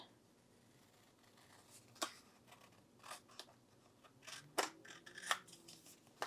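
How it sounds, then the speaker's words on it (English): Scattered crisp snips of non-stick scissors trimming paper, a handful of separate cuts spaced unevenly in a quiet room. "I'm going to grab my non-stick scissors for this piece, and I'm just going to trim that off"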